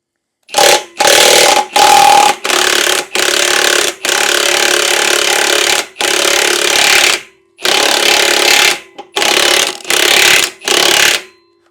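A 22 mm wrench loosening a tight front axle bolt on a Yamaha RoyalStar 1300 V4 motorcycle, heard as a series of loud, close, harsh bursts of ratcheting and scraping separated by short silences.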